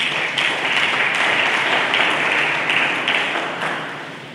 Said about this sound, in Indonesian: Mari kita berikan tepuk tangan bagi dia.